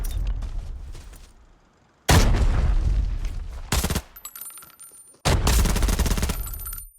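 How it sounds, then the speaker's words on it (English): Grenade blasts in a battle royale video game: three loud, broadband explosions in sequence, each followed by a lingering rumble, with quieter crackling game ambience between them. "Notice, even though I'm only throwing 3 grenades, the area they cover is actually really big."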